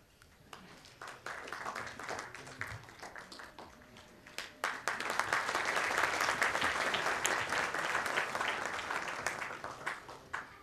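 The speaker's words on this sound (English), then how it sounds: "I think we must give another huge round of applause to Professor Yadav for coming all the way to" A room full of people at a lecture on Indian politics applauds, the clapping building from scattered hands into a sustained, dense round before tapering slightly.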